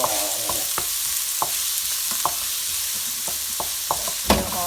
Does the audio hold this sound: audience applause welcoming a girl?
no